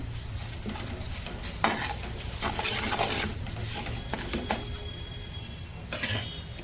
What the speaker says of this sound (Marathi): चला, हे वाटण आपण घालून मग फिरून घेऊया 2 मिनिटं